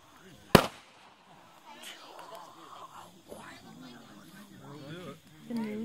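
Fourth of July fireworks: one loud, sharp firecracker bang right at the start, then quieter crackling and voices talking over the background.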